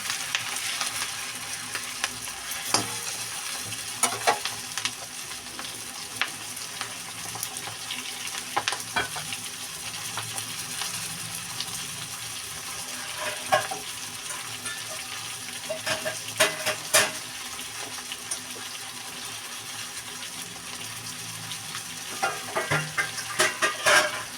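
Shrimp heads, still in their shells and coated in spice paste, sizzle and fry in a pan while being stirred, a continuous hiss broken by scraping stirs and small clatters, with no talk.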